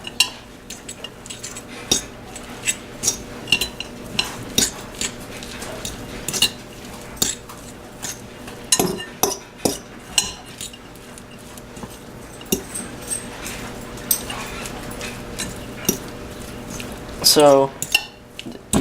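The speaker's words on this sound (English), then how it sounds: "So now mix that together some." Chicken empanada filling being mixed with Colby Jack cheese in a bowl: soft scraping and clinks of a utensil against the dish in irregular strokes, with a few brief spoken words.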